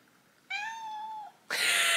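A cat meows once at home, a clear close falling call, followed right away by a louder, harsher second meow or yowl.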